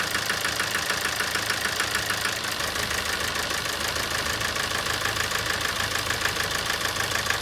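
A 2007 Toyota Avensis D4-D diesel engine idles with a misfire, giving a steady, close, continuous rumble with a rapid repetitive knocking running through it the whole time.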